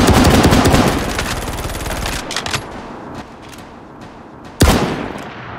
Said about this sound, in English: Why'd you shoot the gun?